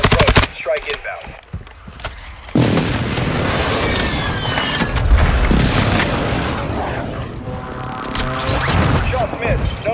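An air strike and gunfire in a military video game, with heavy booming blasts and rattling fire that swell after a quieter opening, while a voice talks over part of it.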